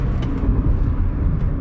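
Toyota GT86 driving through a covered parking garage, a low steady engine rumble with echoing road and cabin noise, loud and continuous with no talking.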